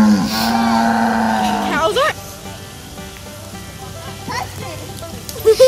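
Low bellowing moos from cattle, a few drawn-out calls early on, with people talking over a steady background rumble.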